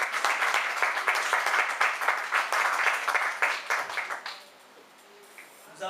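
A church congregation bursts into warm applause for the word of God during an afternoon teaching. The clapping is thick and sustained for about four seconds, then quickly dies away into quiet.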